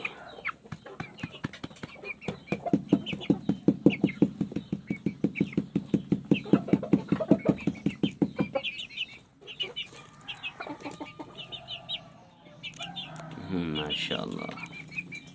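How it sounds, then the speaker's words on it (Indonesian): Filipino chickens cluck in a rapid, steady rhythm, then the calls thin into scattered clucks and chirps, fairly close. "Namanya Vina karena ayam Filipina"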